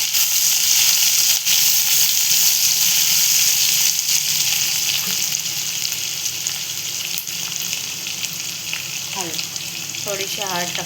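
Crushed green chilli thecha paste frying in a hot pan for a Maharashtrian home recipe, giving a steady, loud, close sizzle throughout with faint clinks and scrapes near the end.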